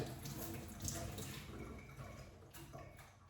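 Tap water running steadily over green chillies being washed in a kitchen sink, a continuous close splashing stream with faint clinks, briefly louder near the start.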